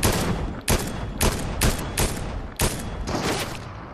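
Fortnite gunfire rings out in loud, close bursts of rapid shots, about seven sharp volleys in quick succession with barely a pause between them and no talking.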